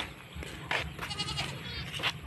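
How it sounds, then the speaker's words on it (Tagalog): Goats bleat on a farm field in the Philippines, with several short, wavering cries overlapping across a couple of seconds, moderately close against a low outdoor rumble. "Yan, may mga kambing."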